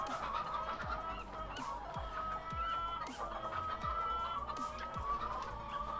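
Chickens cluck and a rooster crows in a Farming Simulator 19 coop: repeated clucks and squawks carry steadily over a low game ambience, with several birds calling at once and no talking.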